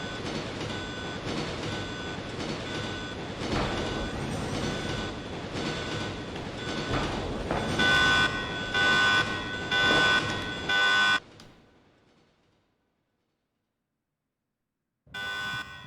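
A train runs in the video game Resident Evil with a dense, steady rumble and clatter joined by repeated beeping tones. The noise cuts off abruptly into silence, then returns briefly at the end.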